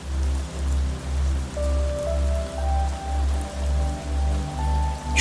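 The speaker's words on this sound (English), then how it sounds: "the muted sound of rain on glass" Rain patters steadily on glass, a soft even hiss layered over a slow, rhythmic low pulsing drone and faint sustained tones, calm and muted with no voices.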